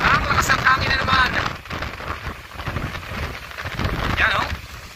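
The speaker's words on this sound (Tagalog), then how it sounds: "Ang lakas ng hangin na naman." Gusty wind roaring and buffeting, with a rushing, rain-like wash rising and falling; a voice and faint whistling sounds come through in places.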